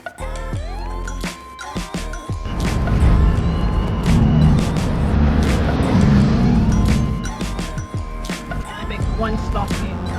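Busy road traffic on Kingston Spring Road in Jamaica, with cars passing close by, engines revving, a horn-like tone and a steady roar of vehicles, while someone talks over it.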